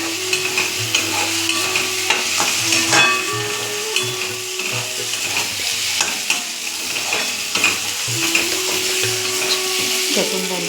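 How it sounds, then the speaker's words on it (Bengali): Onion and garlic fry in hot oil with turmeric and salt while being stirred, a continuous close sizzle broken by scraping stirs and occasional clinks, with faint background sound underneath. "এবার এটা সুন্দরভাবে ভাজা হচ্ছে। দেখুন"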